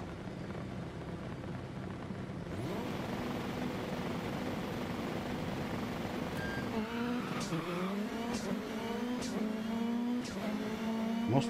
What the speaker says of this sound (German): also auch wenn wir die Kurve nicht perfekt genommen haben, haben wir doch schön aus der Kurve raus beschleunigt